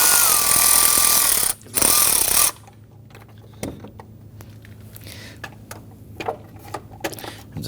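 A socket wrench loosens the engine knock sensor bolt on a 2011-2014 Kia Sorento, heard as a loud ratcheting rattle for about two seconds, then scattered faint clicks and taps of handling tools.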